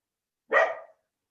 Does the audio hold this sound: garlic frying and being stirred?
no